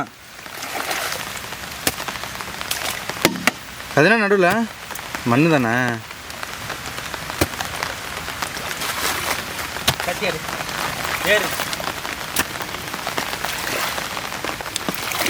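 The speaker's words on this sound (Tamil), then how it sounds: "மழை வர சரியான மழை பெய்யுதுங்க" Steady heavy rain hisses across the whole clip, with occasional sharper drops, while a voice speaks briefly in the middle.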